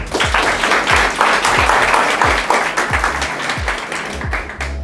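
Audience at a seduction workshop bursts into steady, dense applause that fills the room, with low thumps underneath and a faint voice near the end.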